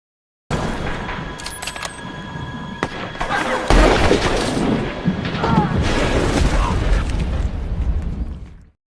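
Gunfire and explosive bursts in a film scene of a sniper battle between United States and Afghan snipers: a cluster of sharp cracks, then a heavy boom that leads into sustained loud rumbling blasts.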